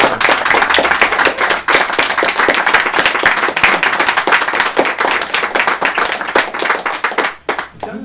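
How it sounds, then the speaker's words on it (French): A room audience at a book translation presentation bursts into steady, dense applause, many hands clapping loudly and close throughout before it begins to thin at the end. "On peut applaudir ce travail."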